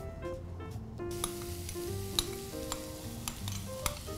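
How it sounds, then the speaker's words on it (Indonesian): Green chilies stir-frying in about three spoonfuls of oil, with a continuous sizzle broken by sharp clicks and scrapes of a spatula stirring in the pan. "Kita lanjut untuk gongseng cabai hijau."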